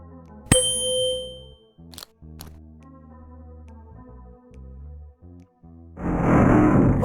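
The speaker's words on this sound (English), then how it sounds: "A musical triangle." A musical triangle in the Willy Morgan video game is struck once, giving a bright, sharp ring that fades over quiet background game music, and a loud noisy burst follows near the end.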